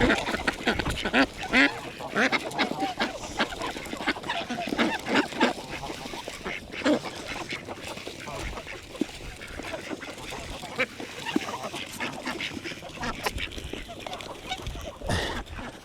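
A flock of wild ducks and geese overwintering nearby keeps up steady quacking and occasional honks, moderately loud with scattered sharp calls, while people talk intermittently over the birds.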